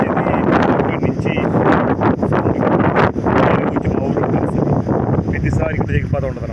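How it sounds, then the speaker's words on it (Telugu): Strong wind by a river where fishing boats are moored buffets the microphone in loud, continuous gusts with rustling, while a voice talks underneath. "బాగా గాలి ఉంది."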